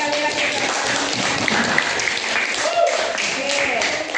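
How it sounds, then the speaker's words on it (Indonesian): Primary schoolchildren applaud in a classroom, a dense, steady wash of many small hands clapping for the full length, fairly loud, with children's voices and chatter mixed underneath. "Tepuk tangan sekali lagi."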